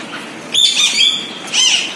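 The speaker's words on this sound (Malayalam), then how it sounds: "ആഫ്രിക്കൻ തത്തകള്" Birds at a zoo, where African parrots are kept, give two bursts of shrill, squawking calls against a steady background hum, one call at half a second and another a second later.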